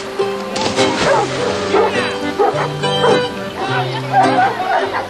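Several working dogs bark, yip and whimper excitedly in quick, overlapping bursts close by, a lively chorus of dog voices.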